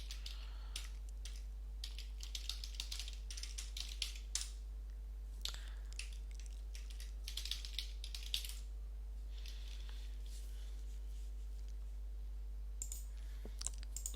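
A computer keyboard is typed on in quick, light bursts of clicks with short pauses between runs of keystrokes, close and fairly quiet over a low steady hum, with no voices.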